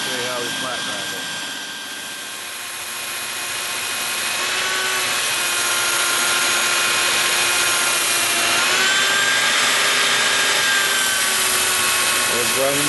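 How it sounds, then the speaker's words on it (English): A sander with 40 grit paper grinds an old saw blade flat for a knife, a continuous, fairly loud abrasive whine with steady tones that dips briefly, then holds for the full stretch. "We're grinding the blade flat and getting all the major scratches out from the old saw blade"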